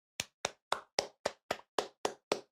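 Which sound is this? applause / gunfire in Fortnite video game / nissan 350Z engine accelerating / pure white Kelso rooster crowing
applause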